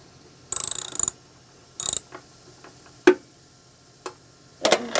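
A socket wrench ratchets in short, loud bursts while tightening a part on a rally mower, with separate clicks and clunks between the strokes and no talking.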